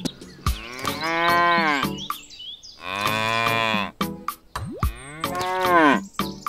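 Cattle in a farming game give three loud, drawn-out moos, one after another with short pauses between, and no other sounds or talking around them.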